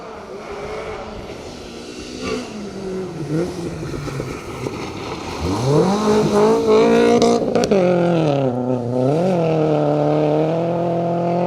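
A rally car on Greystoke Stages, stage 2, races past: the engine note builds and climbs in pitch as it nears, peaks loud and close, then sweeps down as it passes.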